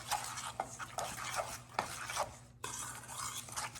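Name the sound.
mixing meatloaf mixture with egg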